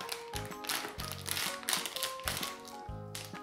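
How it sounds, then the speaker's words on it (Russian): A plastic packet holding a Filly mermaid pony toy is torn open and handled, giving several bursts of crinkling and tapping in an uneven rhythm, close by with no talking. "Давай открываем третий пакетик."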